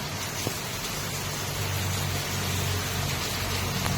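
Steady, dense downpour of heavy rain in Doha with a constant broadband hiss and low rumble, no voices.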